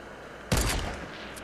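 A sudden close burst of video game gunfire during a solo-versus-squads battle royale match, a loud volley that fades out over about a second, with no talk.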